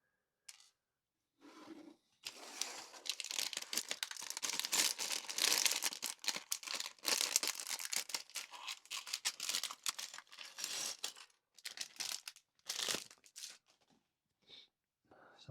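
A plastic bag of LEGO City taxi parts is crinkled open and the pieces are shuffled, with bursts of rustling and small clicks separated by short pauses, close and fairly quiet.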